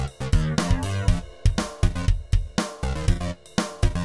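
Bass line built from an Apple Loops bass loop in Logic, transposed up a fourth, plays a punchy rhythmic groove of repeated plucked notes with other loop parts, loud and steady with no talking.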